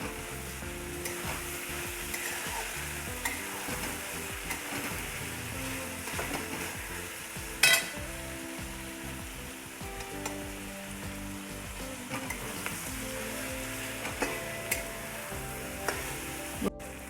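Spatula stirring and scraping vegetable tawa pulao on a hot flat griddle, with a steady sizzle under repeated clinks and scrapes, one sharper knock midway, no talk.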